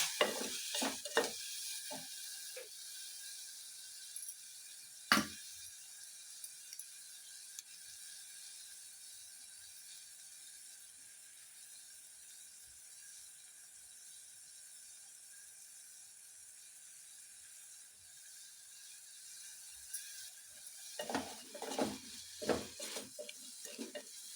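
Tomato and onion frying in a pan until soft: a faint, steady sizzle through the middle, with clusters of scraping and clattering stirring at the start and near the end, close by.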